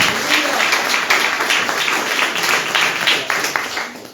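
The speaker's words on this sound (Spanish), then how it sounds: "Dele fuerte palmas a aquel." Congregation at an early-morning church service claps hands together loudly, a dense, continuous burst of applause from many people close by, with no voices over it.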